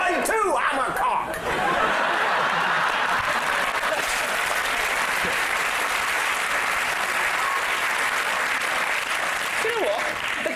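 Studio audience at a comedy panel show breaking into loud, sustained applause mixed with laughter, filling the room from start to finish.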